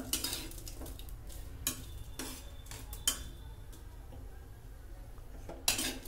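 Whole chutney masala spices dry-roasting in a pan, with faint scraping and stirring and a few sharp clinks of a spoon against the metal. No voices.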